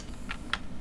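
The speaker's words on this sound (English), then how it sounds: "I wish my keyboard noises weren't so loud." Two quick, soft computer keyboard key clicks sound close by over a low, quiet room background.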